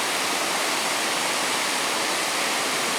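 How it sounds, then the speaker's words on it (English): Waterfall at Oak Orchard on a rainy day during salmon fishing, a steady, dense rushing roar of falling water filling the whole stretch with no breaks and no voices. "Not as much water coming over the fall side this year, huh?"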